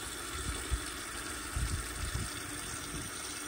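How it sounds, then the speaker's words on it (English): Water refilling the tank of an early-2000s elongated Vortens Vienna toilet after a flush, a soft steady trickle and rush with low wind rumble outdoors, faint and continuous. "now I'm gonna go ahead and fill up the tank the rest of the way to the water line"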